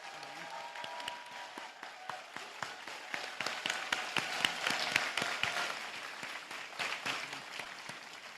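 An audience at a class applauds for Jasmine, the scattered individual claps building into a dense patter and tapering off, with a few voices mixed in.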